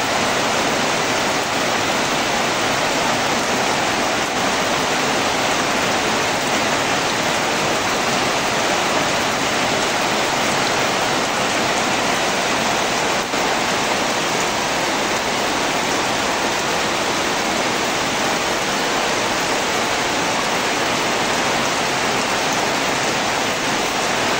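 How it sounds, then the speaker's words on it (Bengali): Heavy rain pours down outside a house with a tin roof, a dense, loud, unbroken hiss of downpour that holds steady throughout with no voices. "দেখেন আজকে কি পরিমাণ বৃষ্টি হচ্ছে।"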